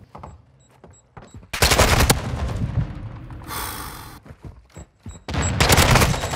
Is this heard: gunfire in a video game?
yes